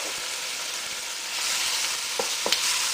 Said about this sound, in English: Just saute that for a bit also to bring out some of the juices from the tomato